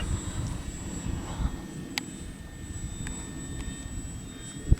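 A model Spitfire airplane flying at partial throttle gives a faint, steady engine drone at a distance over outdoor wind noise, with a few sharp ticks and no speech.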